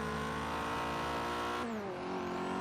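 A Mazda Speed3 in Forza Horizon 3 screams at high RPM, its engine note holding a steady high pitch before dropping sharply around an upshift and climbing again, loud and up close with no talking.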